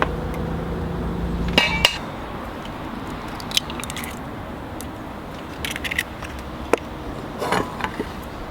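Two whole eggs are cracked against a bowl and dropped in for a leche flan custard, giving a few sharp clinks and taps near 1.5–2 seconds and later, against a quiet kitchen background.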